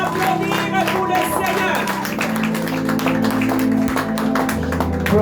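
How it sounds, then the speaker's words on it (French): A church congregation claps hands for the Lord during a lively worship service, rhythmic clapping mixed with music, voices and occasional shouts, loud and continuous throughout. "Clap again your hand for the Lord."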